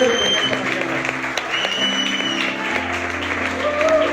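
A church congregation gives a sustained round of clapping during a Spanish-language service, a steady wash of many hands with faint music beneath.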